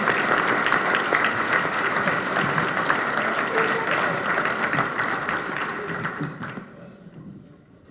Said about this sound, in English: I think we ought to give her a big round of applause